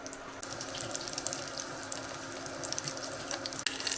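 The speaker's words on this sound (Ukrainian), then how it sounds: "Олія розігрілась, смажимо нашу паляничку." Steady crackling hiss of a layered flatbread frying in hot oil in a skillet, continuous and close, with a brief clatter near the end.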